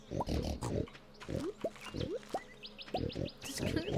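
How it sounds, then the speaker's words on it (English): Pigs oinking on a Stardew Valley farm, several short, close grunts and rising squeals spaced irregularly, with light bird-like chirps in the background. "I can't wait to have more pigs."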